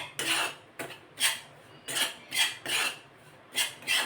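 Wheat flour being stirred into ghee in a pan with a utensil, lumps broken apart: repeated scraping and clinking strokes in a steady rhythm, close and moderately quiet, no voices.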